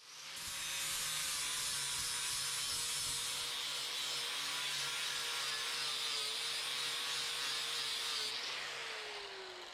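A new flap wheel grinds metal during a custom crossmember install on an S10 build, a steady abrasive whine running continuously for nearly ten seconds at close range with no talking.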